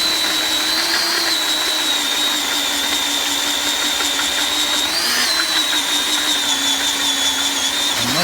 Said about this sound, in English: So just keep drilling the holes here.